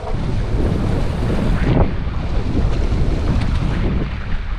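Strong wind roars steadily across open sea aboard a fishing boat out for yellowtail, with waves washing beneath it, loud and continuous, with no talking.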